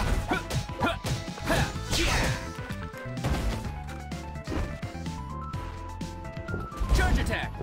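Sword-and-shield Shield press skill strikes in the Ragnarok mobile game, a busy run of sharp crashing impacts and whooshes over game music, repeated several times in quick succession.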